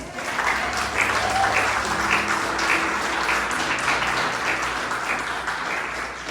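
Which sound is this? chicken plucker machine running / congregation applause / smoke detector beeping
congregation applause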